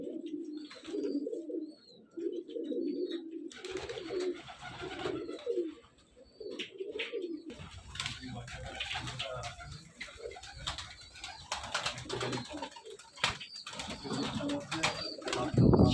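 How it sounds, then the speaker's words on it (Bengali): A large flock of pigeons kept at a home loft, including racer, madraj and giribaz breeds, coos continuously in low, throaty, overlapping calls, close and steady with occasional flutters. "প্রচুর পায়রা"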